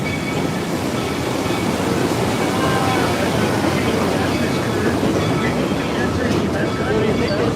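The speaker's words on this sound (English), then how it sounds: "Welcome to the Colorado Georgetown train ride. Little historic train ride through the mountains" A historic train on the Georgetown line in the Colorado mountains rumbles along steadily, wheels clattering on the track with faint squeals, a dense unbroken noise with voices mixed in beneath.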